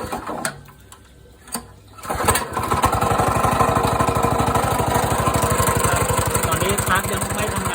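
A small RC lawn mower engine sputters and catches, its cutter not yet engaged, then settles into a steady, buzzing run that continues loudly to the end.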